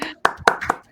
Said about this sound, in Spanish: le vamos a dar un fuerte aplauso a Eugenia